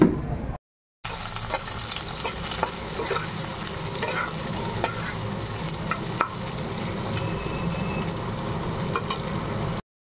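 Shukto sizzling in a pan with ghee, a continuous close frying hiss with occasional stirring scrapes and clicks, briefly cut to silence near the start.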